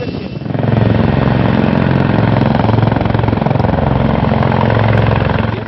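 An Indian Army Dhruv helicopter flies close by, its rotor thumping in a fast steady rhythm over a loud continuous engine whine that swells and holds throughout.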